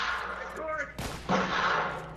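Gunfire in The Last of Us multiplayer, a sharp loud broadband shot burst near the middle followed by a sustained crackle of fire, set against game ambience and music.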